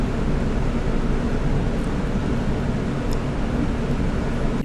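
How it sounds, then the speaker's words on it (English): A room air conditioner runs in the background, giving a constant broadband whoosh and hum that stays even in loudness throughout, with no one talking. "What you're hearing is my air conditioner."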